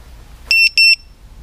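A ViFly Finder 2 drone finder gives off two loud, shrill electronic double beeps in quick succession, close by, over near silence.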